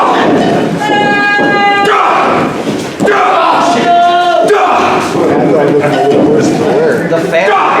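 A wrestling crowd roars and cheers loudly throughout, with chanting, whistles and a thud partway through, while a commentator talks over the din.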